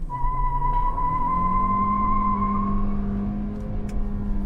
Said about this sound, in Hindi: फर्स्ट गियर में डाला, मोटर रेव किया।